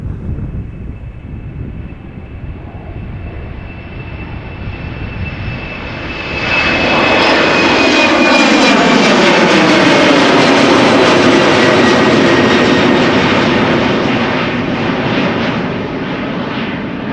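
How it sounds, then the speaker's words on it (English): An Embraer 190 jet of KLM departing Amsterdam Schiphol, outbound to Billund, builds from a distant whine into a loud, broad engine roar around the midpoint, then holds steady and slowly eases as it climbs away. "Embraer 190 outbound to Billund on its way"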